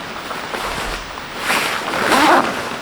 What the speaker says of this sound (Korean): 그 다음에 지퍼를 쭉 연결해요.